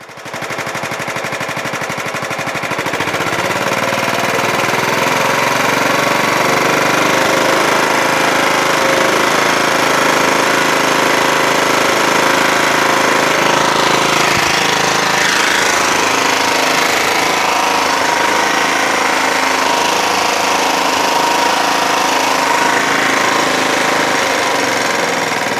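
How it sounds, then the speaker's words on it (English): A Kohler Command 16HP engine on a Scotts lawn tractor running at a fast low idle after an idle-screw adjustment, a steady loud rattling drone that continues unbroken throughout. "This is low idle now. I just adjusted the idle screw so that it idles this fast."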